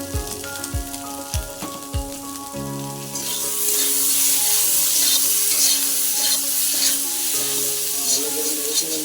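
Potato curry stirred in a frying pan, with a few light clinks of the spoon at first, then a loud, steady sizzle and scraping stir that continues close up, with no voices.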